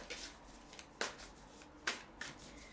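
Tarot cards are drawn and laid down on a table: soft, close papery slaps and brushes, two sharper ones standing out among lighter rustles, with no talk.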